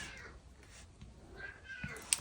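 A cat meows faintly in a quiet room, a short drawn-out cry rising and falling, with a brief sharp sound near the end.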